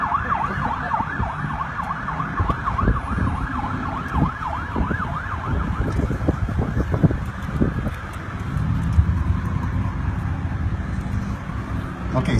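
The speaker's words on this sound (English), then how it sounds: "We'll wait just a second for the sirens to get through." A wailing siren sweeps up and down over steady traffic rumble during an outdoor flag-raising ceremony, loud at first and then fading as the emergency vehicle moves away.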